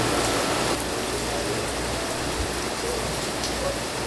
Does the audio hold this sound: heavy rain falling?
yes